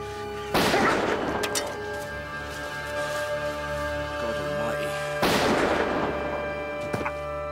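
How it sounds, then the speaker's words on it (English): Two loud gunshots ring out in a drama scene, each a sharp blast with a long reverberant tail, spaced several seconds apart over a tonal music bed. "Shot twice, sir."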